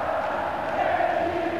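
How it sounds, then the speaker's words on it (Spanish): Stadium crowd roaring in a sustained ovation for Boca Juniors player Coco during a championship celebration, a dense continuous wash of voices at steady loudness throughout. "Llegó la ovación, ¿eh?"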